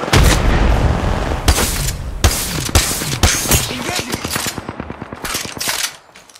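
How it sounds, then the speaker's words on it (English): Rapid automatic gunfire from the video game Apex Legends rattles out in loud, close bursts, with several separate volleys and a long fast stream of shots toward the end. "Shots fired, and they're hitting me."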